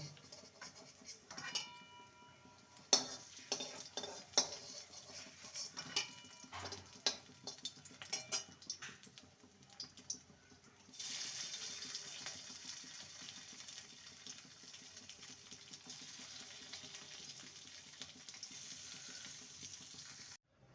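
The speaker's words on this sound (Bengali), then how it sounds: "বাকিগুলো ঠিক একইভাবে ভেজে নেব" Cabbage and lentil fritters frying in oil, with a soft crackle broken by clattering utensil knocks early on, then a steadier, faint sizzle that carries on alone.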